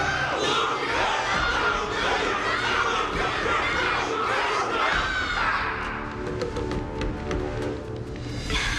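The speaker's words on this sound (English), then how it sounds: "Can't you hear? Everyone's cheering for you, Luca." A big crowd in the Honkai: Star Rail video game cheers and roars loudly and continuously, and the shouting thins out toward the end.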